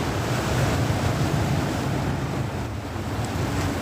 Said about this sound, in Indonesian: Tuh dihajar pulau ombak tuh.